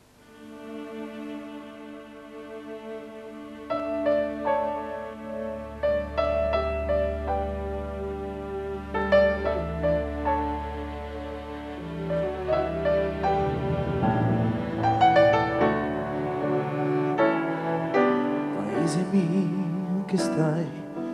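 An Italian pop song plays with a bass line and layered instruments, building in fullness over about twenty seconds.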